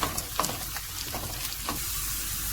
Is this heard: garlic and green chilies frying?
yes